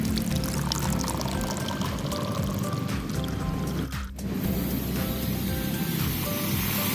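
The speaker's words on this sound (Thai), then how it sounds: "โอ้เดือดเลยลูก ดูสิ โอ้โหเดือดแล้ว" Water poured into the heating pack of a self-heating mala hot pot cup reacts and boils, a loud continuous rushing, bubbling hiss close by that dips briefly near the middle.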